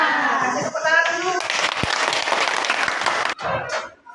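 Schoolchildren in an elementary classroom burst into loud, dense clapping that lasts about two seconds and then tapers off, with a teacher's voice speaking before it starts.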